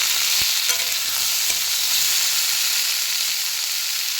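Tomatoes with salt and turmeric frying in a pan give a continuous close sizzle and hiss, with a few sharp spoon taps and stirring scrapes near the start, no voices.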